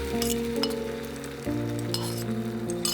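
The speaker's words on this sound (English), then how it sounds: "Using a non-stick surface on low heat, in some oil, and spread a thin layer of egg." Thin-spread egg frying in oil on a non-stick pan over low heat gives a steady sizzle, with light clinks of a utensil against the pan and background music playing throughout.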